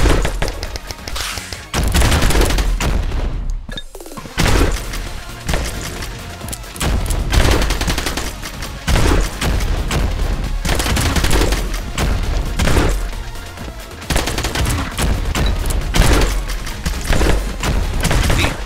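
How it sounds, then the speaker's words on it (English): Gunfire rattles nonstop in the game Xolta, loud and dense rapid bursts mixed with booms and thuds, with only a brief break early on. "Guns attached to guns! Guns that shoot guns!"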